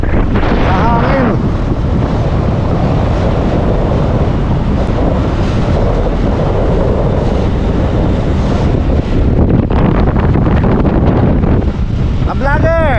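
Strong wind at Haeundae beach in Busan, South Korea buffets the microphone in loud, continuous gusts, with a roar of surf and waves underneath.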